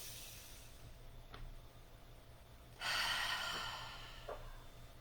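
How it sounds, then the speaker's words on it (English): A single deep breath, inhaled and exhaled in a soft, close rush of air, rises out of a quiet room with a faint low hum, followed by a couple of small sniffs. "3 deep breaths."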